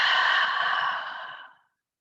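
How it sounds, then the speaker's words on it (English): A slow, steady exhale during a guided breathing meditation. It is close and breathy and lasts about a second and a half, then fades into silence. "Exhale, inviting the breath out"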